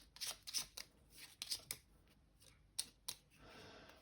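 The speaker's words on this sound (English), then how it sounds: "I will just shuffle these so you know that I am not manipulating cards." Playing cards for the Bloodborne board game being shuffled by hand, heard as several quick riffling bursts separated by short pauses, close and clear, with no talking.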